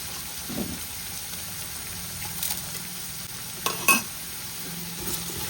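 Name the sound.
green chilies and onions sauteing in hot oil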